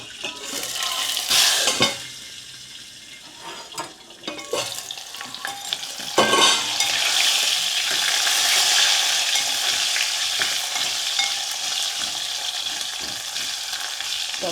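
Asafoetida and curry leaves hit hot oil on a traditional outdoor clay stove, bursting into loud, crackling sizzles with stirring clatter, then settling into a steady, close fry.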